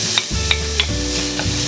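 Onions and garlic sauté in hot oil for a kare-kare peanut sauce, giving a steady close sizzle broken by a few soft stirring scrapes.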